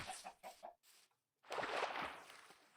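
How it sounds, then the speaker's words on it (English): Chickens cluck in a Minecraft-style game set in a plains biome, a few short clucks at first, then a brief pause and a louder, denser stretch of fowl sounds with no one talking. "Chickens."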